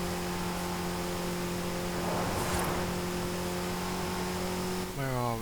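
An inline-four engine revs high and steadily in the Forza Horizon 5 racing game, a sustained whine under game sounds that rises sharply at the end as the revs climb again.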